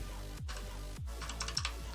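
Computer keys clack during a Trailmakers community stream, a few firm taps and a quick cluster of lighter clicks, close and fairly quiet.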